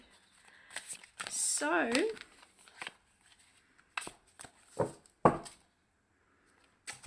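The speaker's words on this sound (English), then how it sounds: "let's just give these a good old shuffle" A deck of tarot cards being shuffled by hand, giving a few close, brief riffling and sliding bursts between stretches of talk.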